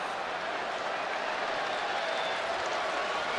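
A baseball crowd at a Cleveland at Boston game in 2009 reacts to a catcher's errant throw that missed the pitcher. A broad, steady wash of distant crowd noise holds at a moderate level throughout.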